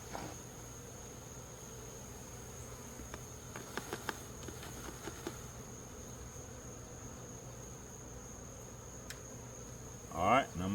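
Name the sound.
honey bees buzzing at a hive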